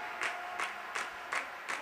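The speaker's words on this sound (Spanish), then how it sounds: "que arranca los aplausos de su público" Home crowd at a youth cadet handball match in Spain applauds, five short even bursts of clapping rising and fading over a steady hall murmur, moderately distant.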